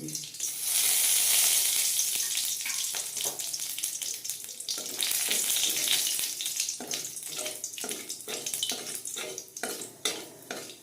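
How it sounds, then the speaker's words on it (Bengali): Dry red chillies and whole spices temper in mustard oil in a wok, producing a loud hiss at first that settles into a steady fry with repeated utensil scrapes and stirs, growing busier toward the end. "ফোড়নটা ভাজা হয়ে গেছে"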